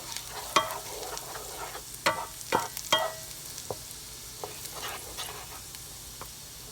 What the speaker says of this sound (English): So we've got the butter, the garlic, and the red pepper flakes kind of sauteing a little bit